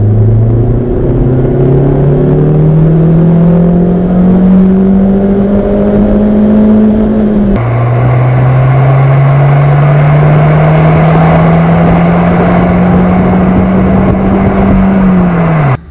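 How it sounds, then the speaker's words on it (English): A 1999 Volvo S40 Turbo accelerates hard with a loud, rising engine note that climbs through two gear pulls, a brief shift break near the middle, and fills the whole stretch without speech. "the car moves fairly quick."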